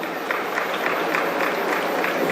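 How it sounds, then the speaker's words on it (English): Audience applauding at a college graduation day ceremony, a dense steady wash of clapping from a large crowd, sustained and fairly loud throughout with no clear pauses. "Give her a big round of applause."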